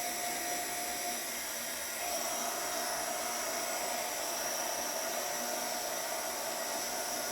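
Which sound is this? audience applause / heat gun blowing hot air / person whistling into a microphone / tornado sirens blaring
heat gun blowing hot air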